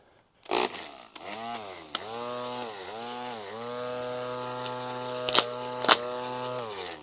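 A cordless string trimmer, an Amazon model powered by a DeWalt 20V battery, starts up with a sharp whine and runs steadily at high speed, dipping briefly a few times, then two loud cutting bursts near the end.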